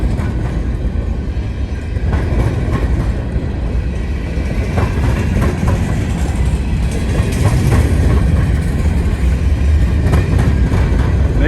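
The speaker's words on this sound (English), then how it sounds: "This is a potash train, empty potash train." A long empty potash freight train rumbles steadily past nearby, its wheels clacking over the rails in a continuous loud roar.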